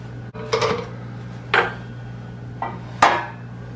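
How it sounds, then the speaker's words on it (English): Several knocks and thuds as English muffin bread is worked loose from a metal loaf pan with a knife and flipped out, four distinct hits spaced across a few seconds over a steady low background hum. "if it doesn't immediately pop out of the pan, you may need to loosen the edges a little bit with a knife"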